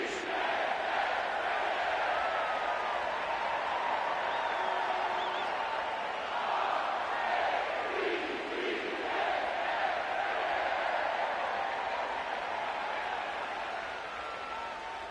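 A huge stadium crowd roars and cheers steadily at M&T Bank Stadium in Baltimore before a Patriots versus Ravens game in an EA Sports football video game, a dense continuous wall of noise.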